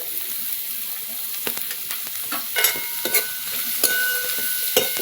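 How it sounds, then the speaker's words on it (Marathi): Chopped onion frying and being stirred in a pan over a wood-fired village stove, a continuous close hiss of sizzling oil with scattered spatula scrapes and small pops. "चला आता मी कांदा चांगला फ्राय करून घेते"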